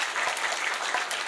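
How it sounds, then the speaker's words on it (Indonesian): Steady applause from a crowd at an Islamic sermon gathering, a continuous patter of many hands clapping at moderate volume with no talking over it. "tepuk tangan sik rata."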